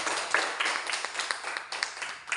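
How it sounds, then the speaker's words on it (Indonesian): Steady applause from a class or training group, dense overlapping claps with a few sharper individual hits standing out, moderately loud and close. "beri tepuk tangan buat Yoben"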